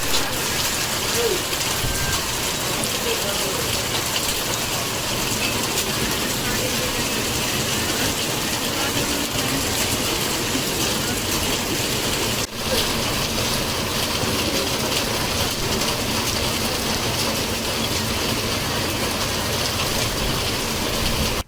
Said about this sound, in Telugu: దిత్వా తుఫాన్ ప్రభావంతో సచ్చివేడు నియోజకవర్గంలో భారీ వర్షాలు కురుస్తున్న పరిస్థితి